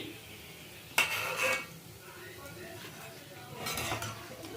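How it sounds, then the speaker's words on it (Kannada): Fried vadas are lifted out of a pan of oil, with a sharp metallic clink of a utensil against the pan, a short scraping clatter, a quiet stretch with faint sizzling, then another rattle of metal near the end. "ಈಗ ಇಲ್ಲಿ ಹಾಕಿದ್ದು ವಡೆ ಆಯಿತು, ತೆಗಿತಾ ಇದ್ದೀನಿ"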